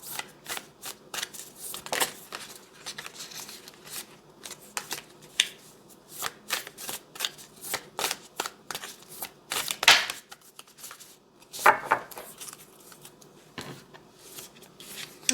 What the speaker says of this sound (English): let me actually pull another card here